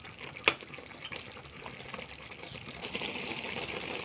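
Curry of pepul greens and stalks simmering in a cooking pot, a steady low bubbling and hiss with a faint clink near the start, no voices.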